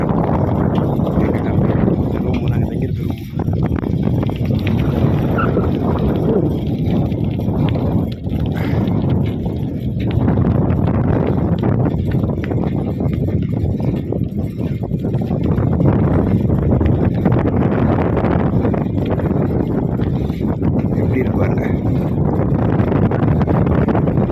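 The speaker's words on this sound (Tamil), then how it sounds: "காற்று அடிக்குது" Steady wind roars across an open area with mountains and buildings in Saudi Arabia, a loud continuous rushing and buffeting on the microphone that lasts throughout with no speech.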